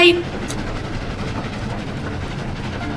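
A train in the video game Dead Rails, driven across a desert, gives a steady low rumbling engine drone with faint rail clatter, loud and continuous after a brief opening burst.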